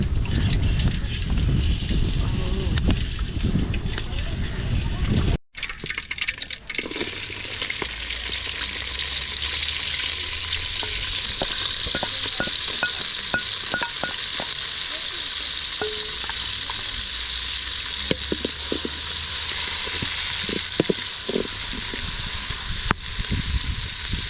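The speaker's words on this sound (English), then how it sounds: "As she fries the stew" Green gram stew frying in a pot over an outdoor cooking fire in an African village: steady, loud sizzling with scattered clicks and scrapes of stirring, broken once by a sudden brief dropout.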